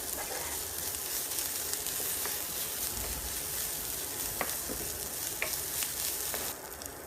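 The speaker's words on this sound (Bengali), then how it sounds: "একটা টমেটো আমি কুচি করে কেটে নিয়েছি, তা এখন এর মধ্যে দিয়ে দিব। সবগুলো উপকরণ ভালোভাবে নেড়ে মিশিয়ে নিচ্ছি।" Broccoli with chopped tomato and other ingredients stirred in a hot pan, a steady sizzle and frying hiss with the scrape of a utensil now and then, close and continuous with no talk.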